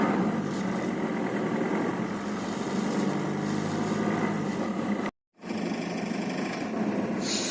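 An automatic car's engine runs with a steady buzzing drone as the gas pedal is pressed to raise the RPM, cutting out briefly before resuming.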